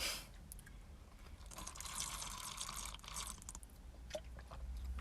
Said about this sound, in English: I'm just going to have a little bit of water.